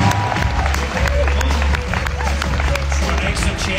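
A gala audience breaks into loud, sustained applause, dense clapping mixed with crowd murmur and a few cheers that keeps going at full volume throughout.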